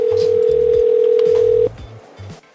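Phone call ringback tone, a steady, loud single tone that holds for under two seconds and then cuts off unanswered, with someone talking over and after it.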